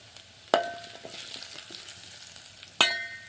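Garlic and seasoning hit hot oil in a pan with two sharp bursts of sizzling spatter, then a quieter crackle between them, close and loud with no talking.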